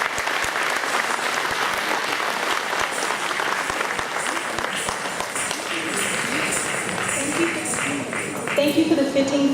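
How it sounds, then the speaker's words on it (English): An audience applauds after a finale performance at a school's annual function, dense sustained clapping filling the room, with a voice starting to speak over it near the end. "Ladies and gentlemen, please give her another round of applause."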